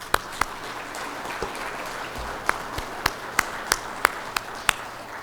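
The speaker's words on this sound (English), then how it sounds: "give yourselves a round of applause for all that we've accomplished together as one" Scattered applause for the WCB team at a project kick-off event: a dozen or so sharp, separate claps spread irregularly over a quiet room rather than a dense ovation.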